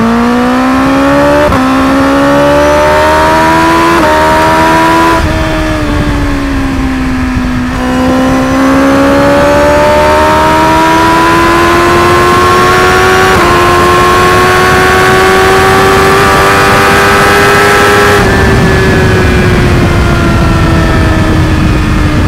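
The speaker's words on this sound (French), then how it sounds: "Ça a une reprise de malade en 6ème en vrai." A 2021 BMW S1000RR motorcycle pulling hard in sixth gear on the Autobahn, its engine note climbing steadily in a loud, close, unbroken howl with brief dips at gear changes and rushing wind underneath.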